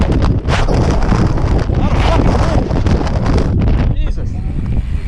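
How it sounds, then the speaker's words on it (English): Strong gusty wind roars loudly and continuously across a microphone on a ski hill during a race challenge, a dense buffeting rumble that persists throughout, with a person speaking briefly amid it. "The wind is fucking gnarly."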